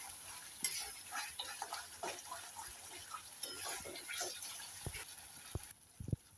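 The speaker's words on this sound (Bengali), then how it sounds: "সব কিছু একসঙ্গে আবার মিশিয়ে নেব।" Spiced paneer corn mixture with garam masala being stirred in a pan, a quiet steady sizzle with soft scraping strokes and a few sharper utensil taps near the end, close by and without speech.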